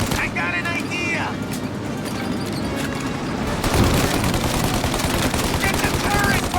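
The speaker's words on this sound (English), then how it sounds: "Shoot the gun! Take out the windshield armor" Gunfire from the video game Mafia: Definitive Edition, aimed at an armored windshield, with sustained rapid machine-gun bursts throughout that swell louder midway, while people shout over the shooting.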